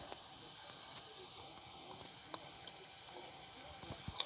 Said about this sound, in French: Donc là, ça bout, ça commence à bouillir